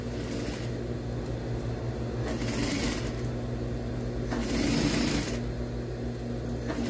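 A sewing machine runs steadily as it stitches a zipper into a child's or adult's jumpsuit, giving a close, continuous mechanical hum with a few faster bursts and no talk over it.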